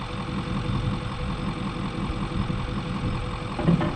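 Case 2144 combine running in place, with a steady, loud, low engine drone and rushing air noise, a slight rhythmic pulse throughout and a brief bump near the end, no talking.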